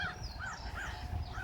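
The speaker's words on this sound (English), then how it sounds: "look at all the crows" Several crows cawing repeatedly in a steady rhythm over open ground at a Cedar Mountain battlefield, moderately distant, with low outdoor rumble beneath and no talk.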